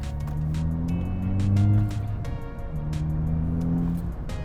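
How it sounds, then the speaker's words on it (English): An MK6 Volkswagen GTI's exhaust drones steadily while driving with rear seats and spare tire removed, a low rumble that swells briefly then settles, with faint ticking clicks over it and no talking. "The exhaust is 10 times louder."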